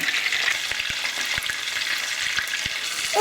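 Gilthead sea bream fries in butter in a pan, giving a dense, close, continuous sizzle with small pops and spatters.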